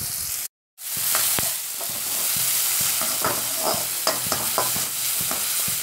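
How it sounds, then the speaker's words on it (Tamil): Steady sizzling of onions frying in oil, with a spoon repeatedly scraping and clinking against the pan, close up; a brief silent gap near the start. "இப்போ நல்லா வெங்காயம் வந்துட்டு நல்லா வதங்கி வரட்டுங்க."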